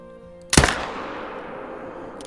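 A single loud rifle shot in the hunting game The Hunter: Call of the Wild, fired at a red deer stag, with a sharp crack followed by a long rolling echo that slowly fades.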